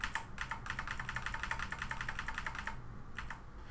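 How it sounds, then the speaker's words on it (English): Rapid, steady key presses on a computer keyboard during Windows 11 shortcut navigation, a close, crisp run of clicks for over two seconds, then a brief pause and a few more taps. "press the down arrow key"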